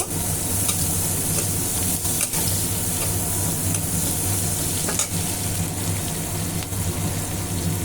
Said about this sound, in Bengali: পেঁয়াজ কুচি দিয়ে ভালো করে পেঁয়াজটা ভেজে নিব